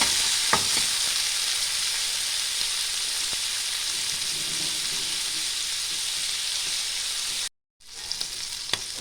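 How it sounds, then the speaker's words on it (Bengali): Prawns frying in a pan of hot oil, giving a loud continuous sizzle with occasional stirring clicks, broken by a brief gap near the end before the sizzling resumes. "চিংড়ি মাছটাও আমি একটু লাল লাল করে ভেজে নেব"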